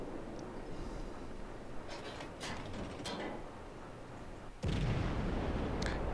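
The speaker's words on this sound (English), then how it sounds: "right now I'm shooting from the broadside. Shooting from 5 guns." The US cruiser Omaha fires its broadside guns in World of Warships: several distant dull booms and mechanical clanks over a low engine rumble, then a louder heavy blast near the end.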